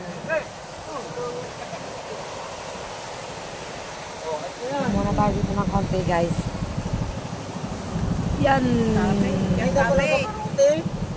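A boat engine starts and runs on test, a quiet idle giving way to a loud, rapid throbbing chug with mechanical rattle, while someone talks over it.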